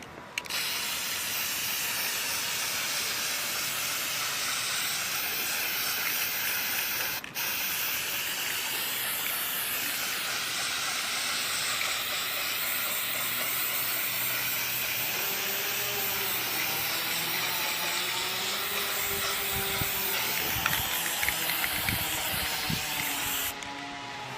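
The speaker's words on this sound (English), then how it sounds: "spray paint all over the mask, giving it a nice even coat" Continuous hissing spray from an aerosol paint can coating a mask, steady and close for a long stretch, with faint rubbing and handling noises toward the end.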